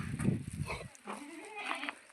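A goat at a farm gives a couple of nasal bleats close by, amid people talking in the background.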